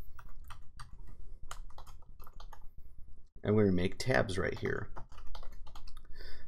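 Rapid clicky typing on a computer keyboard, close and steady with irregular keystrokes throughout, briefly overlapped by someone speaking in the middle.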